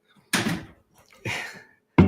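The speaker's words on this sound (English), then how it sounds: "And you shut the door?" A door is shut indoors, giving three separate solid thuds roughly a second apart, each a loud, close impact with a short ringing decay, the last one the sharpest, with no talking over them.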